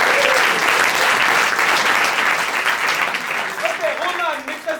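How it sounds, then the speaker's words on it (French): Audience at an improv theatre festival performance clapping loudly in a thick, continuous burst that eases slightly toward the end, with a few voices and a whistle-like cry rising over it late. "Pauline, on peut les applaudir."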